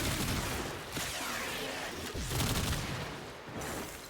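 Basmu beam rifle firing at groups of enemies in the video game Warframe, a loud, sustained stream of crackling, gunfire-like bursts with no pauses, near and without any talk.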